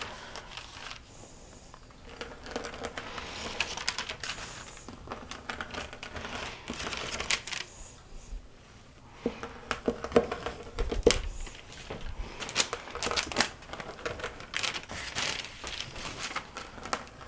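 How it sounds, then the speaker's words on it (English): A pizza cutter rolls through thin rye cracker dough, giving soft scraping, crinkly cutting strokes at close range in an irregular rhythm over about seventeen seconds, with occasional handling knocks. "I just have a pizza cutter, and I'm just going to cut these in largish size crackers"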